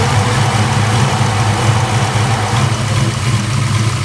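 A Ford engine idles steadily in a Mustang while the cooling fans run, making a loud, constant low rumble with a continuous whooshing fan noise and no talking.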